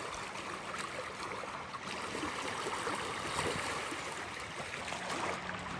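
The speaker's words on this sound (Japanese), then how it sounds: "めっちゃ静かで水の音しか聞こえません。" Quiet water flowing beside Lake Toya in Hokkaido in winter, a steady soft trickling and gurgling wash that continues evenly throughout, with no voices over it.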